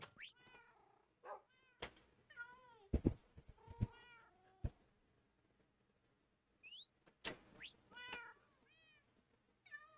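Cats meowing in the Minecraft video game, several short rising and falling mews scattered through the stretch with brief sharp clicks between them, fairly faint and without talk.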